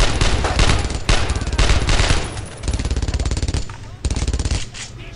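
Sustained machine gun fire in the World War II shooter Brothers in Arms: Road to Hill 30, loud and close, rapid continuous bursts broken by a few brief pauses.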